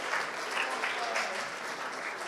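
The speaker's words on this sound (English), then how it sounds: "Let's have another round of applause." A room of attendees applauds at a UK sales awards ceremony, a continuous wash of clapping heard at moderate distance, steady and unbroken for a couple of seconds.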